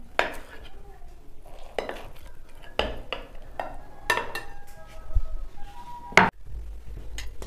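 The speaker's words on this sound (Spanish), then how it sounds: "el queso los voy a cortar en tiritas, de esta forma" Knife strokes cutting cheese into thin strips on a board in a home kitchen, a series of close, sharp taps and scrapes with occasional clinks of utensils against dishes.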